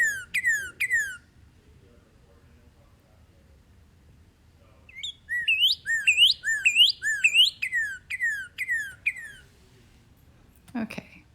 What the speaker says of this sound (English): now this is a cardinal